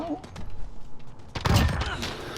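Gunfire from Call of Duty: Modern Warfare online play, a burst of close shots after a quieter stretch with scattered thuds.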